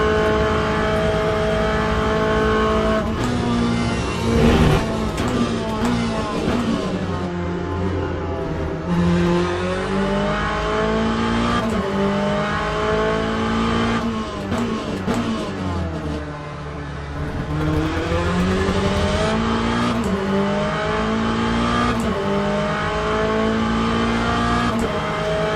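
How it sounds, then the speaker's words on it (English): A Corvette GT3 race car engine in the racing game Le Mans Ultimate roars steadily throughout, revving up and down through gear changes with a constant high-pitched drone, loud and close. "I like the Corvette. It sounds really, I mean, it sounds really good."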